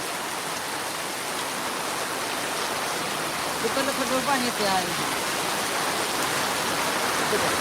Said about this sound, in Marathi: हे बघा पावसाचा वाट